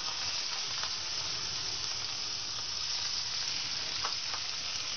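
Scallops sizzle steadily in a hot frying pan, a constant loud hiss with faint crackles and no voices.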